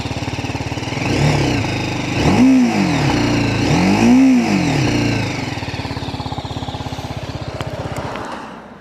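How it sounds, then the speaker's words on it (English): A BMW G310R motorcycle's rear exhaust rumbles at idle close by, then revs up twice in quick swells before settling back to a steady, fairly light tick-over. "So that's the exhaust sound there at the back, folks."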